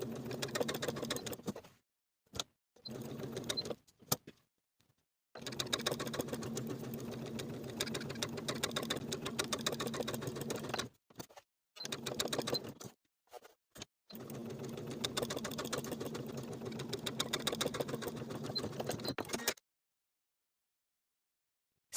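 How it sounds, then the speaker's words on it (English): Domestic sewing machine stitching a coat pocket opening with a short straight stitch, quiet close bursts of rapid needle whirring separated by brief pauses, ending in silence. "Then I'll sew along my transferred rectangle with a short straight stitch."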